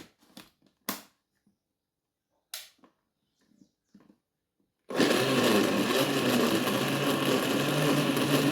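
A countertop blender whirs loudly and steadily while blending a fruit smoothie with milk. Before it starts, several faint knocks and clatters are heard as the ingredients are added.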